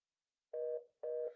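Two steady telephone ringback or dial tones, each lasting about a quarter second, sound cleanly over a silent line while a call goes out to a podcast guest.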